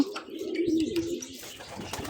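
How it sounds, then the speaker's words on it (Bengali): Pigeons coo softly at close range during morning feeding, low repeated throaty calls rising and falling with a few light rustles and small flutters. "দেখো কবুতরগুলো বাইরে মানে নিচে সবগুলো ঘোরাঘুরি করছে খাবার জন্য"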